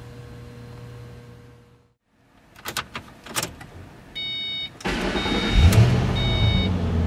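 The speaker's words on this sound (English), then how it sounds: "Oh, you can hear that V8 growl." A Ford Mustang GT's V8 engine cranks over after a quiet pause and a few clicks, then catches and settles into a loud, deep, rumbling idle close by.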